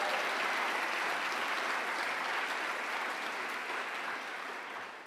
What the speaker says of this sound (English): I hope my husband can hear all this clapping over there in Trenton.